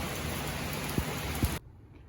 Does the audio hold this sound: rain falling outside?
yes